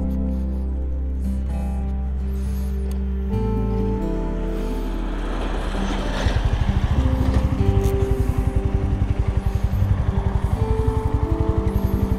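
Royal Enfield motorcycle engine running on a ride over the Mokra Gora mountain road, a steady low thumping drone that swells louder and more pulsing partway through as the bike accelerates, with wind rush on top and no talking.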